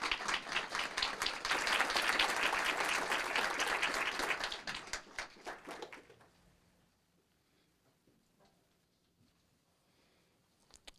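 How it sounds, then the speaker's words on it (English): Audience at a city council meeting applauding for a deputy being called up, loud steady clapping for several seconds that fades out to near silence, with faint voices afterward. "please give a big round of applause for Deputy of the First Quarter, Deputy Lionel Acosta."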